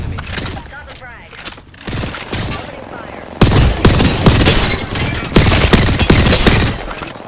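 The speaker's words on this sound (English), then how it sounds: "Opening fire." Rapid bursts of gunfire from a firefight in the Apex Legends battle royale game, dense and loud, growing heavier in the second half, with game voice callouts heard over the shooting.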